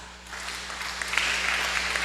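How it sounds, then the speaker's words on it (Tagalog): A church congregation applauds during a sermon on true repentance, a steady wash of clapping from many hands that swells slightly and holds, fairly loud with no voices over it. "Palakpak."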